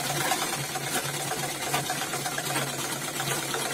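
A sewing machine runs steadily, stitching the side of a trouser pocket on a gents' pant, with a continuous, even mechanical hum close by and no voices.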